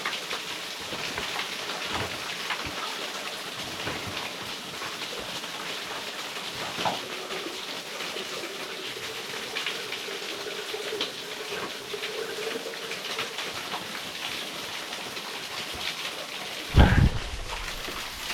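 Continuous rushing water roars steadily, like falling water splashing nearby, with a brief louder thump near the end.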